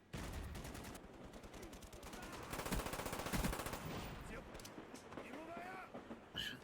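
Rapid automatic gunfire from a weapon in classic Call of Duty rattles in dense bursts, swelling louder midway, with a voice talking over the shots.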